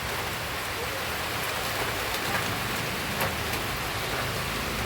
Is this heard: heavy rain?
yes